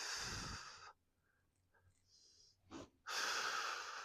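Heavy breathing during a glute medius exercise session, a long loud exhale followed by a quiet pause with small breaths, then another strong, close airy exhale.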